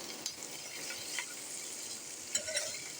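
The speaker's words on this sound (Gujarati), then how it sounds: "તો આપણા તેલ ગરમ થયા બાદ એમાં થોડું જીરું, માંડવીના દાણા, ડુંગળી ને વટાણા નાખી દીધા છે" Cumin seeds, peanuts, onion and peas frying in hot oil for rava upma give a faint, steady sizzle, with a few soft stirring scrapes scattered throughout.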